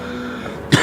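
A man coughs once, loud and close, at the end of a short stretch of quiet room hum, right after imitating race car noises.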